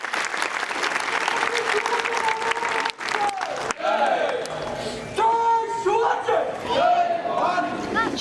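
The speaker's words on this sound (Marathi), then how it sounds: "त्याबद्दल एकदा जोरदार आपण टाळ्या देणार" Loud crowd applause at a Shiv Jayanti village celebration, mixed with shouting voices and cheers rising over the clapping in waves.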